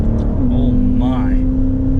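Maserati Levante Trofeo engine droning steadily in the cabin, its pitch shifting through an upshift, with occupants' voices briefly audible over the continuous rumble.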